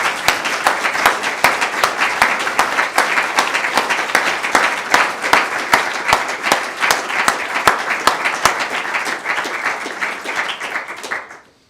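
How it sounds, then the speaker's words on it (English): Funeral attendees applaud together in honor of the deceased, a proud Marine, producing sustained crowd clapping with sharp individual claps that stand out and then stop abruptly. "I think my dad would want us to clap for that."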